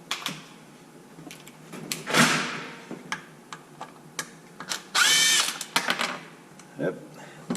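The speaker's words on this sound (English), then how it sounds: "Let me get my power tool." Short bursts of a power drill whir up and cut off while working on a Kraton 8S RC car's pinion, with clicks and clunks of handling between them and a longer whine near the end.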